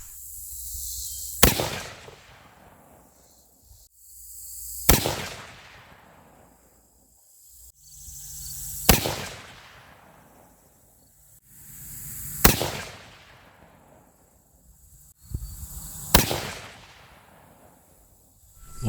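Five loud, sharp .284 Winchester rifle shots fired for a five-shot group, spaced roughly three to four seconds apart, each crack trailing off in a long echoing decay, with no talking.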